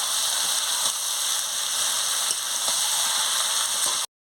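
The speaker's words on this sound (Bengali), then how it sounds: "দেখুন বন্ধুরা, কেমন কষাচ্ছি খাসি মাংসের গ্রেভি দিয়ে।" Goat meat with potato sizzling and frying in a spiced gravy, a steady close crackle of oil running throughout with faint scraping, then cutting off abruptly near the end.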